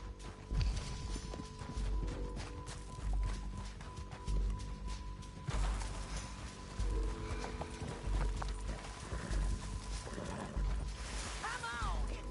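Several horses clip-clop steadily across the ground in Red Dead Redemption 2, hooves thudding close and continuous with an occasional whinny over game ambience, while voices talk intermittently.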